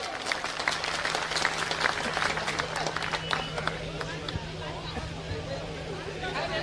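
Applause from an audience at a statue unveiling ceremony, a steady wash of clapping running throughout alongside crowd murmur and a constant low hum.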